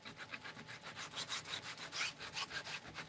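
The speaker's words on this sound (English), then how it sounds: "let's just grab our sander and we'll just distress our frame" Electric sander rubbing over a wooden craft frame to distress its painted surface, a quiet rhythmic scratchy rasping in quick repeated strokes, close and faint, with no talking.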